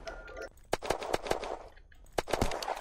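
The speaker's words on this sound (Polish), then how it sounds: "Dostał z Avengera parę strzałów." Rapid gunfire from an Avenger in the video game Unturned, a burst of several sharp shots followed by a pause and a second cluster, moderately loud over a busy game background.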